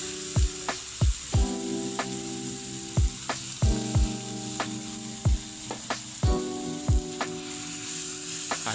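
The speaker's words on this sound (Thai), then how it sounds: "ผมก็จะเอาพริกกระเทียมสับนะครับใส่ลงไป" Chopped chili and garlic sizzle steadily in hot oil in a pan, with a continuous hiss and regular scraping stirs of a utensil.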